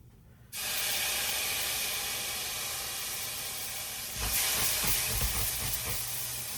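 Broth poured into a hot jambalaya pot bursts into a loud, steady sizzle that holds for several seconds, swelling briefly as more liquid hits the pan and steam hisses up.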